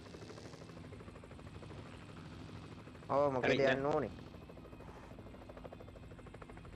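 A helicopter in the video game PUBG Mobile, a low steady rotor buzz running throughout under a player talking, with a loud louder vehicle or engine swell for about a second midway.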